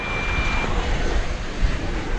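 American Airlines airliner taxiing across runway 18 Left at DFW Airport, heard as a steady broadband engine roar mixed with wind noise, moderately loud and continuous with no talking.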